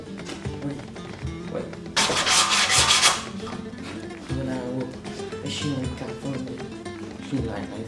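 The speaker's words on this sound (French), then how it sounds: "je vais tout de suite passer du coup au côté de la lame de l'épée que je vais poncer un petit peu" Sandpaper rubbing along the edge of a homemade replica Zabuza sword blade, a steady close scratching that swells into a harsher burst midway, with someone speaking French over it throughout.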